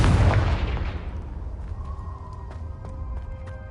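A Confringo blasting spell in Hogwarts Legacy goes off as a heavy booming explosion, then decays into a long fading rumble as faint ringing tones and small clicks follow.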